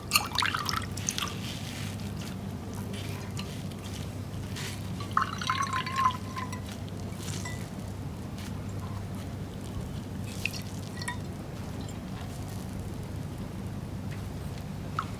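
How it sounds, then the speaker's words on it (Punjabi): Water drips and trickles faintly from chhena being squeezed by hand for rasgulla, quiet scattered drops and small squelches over a low background hum, with no talk. "ਹੁਣ ਆਪਾਂ ਇਸ ਤਰ੍ਹਾਂ ਇਹਨੂੰ ਚੰਗੀ ਤਰ੍ਹਾਂ ਨਿਚੋੜ ਲਾਂਗੇ"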